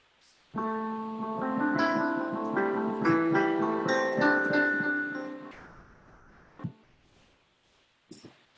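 Pentatonic notes centered on A, played as a flowing melodic run that rings out and fades, followed by a few faint knocks and handling sounds.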